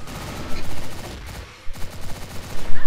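Steyr PDP pistol fire in a video game, quick crisp shots in rapid irregular clusters over dense game noise, loud and close, with a brief lull in the middle.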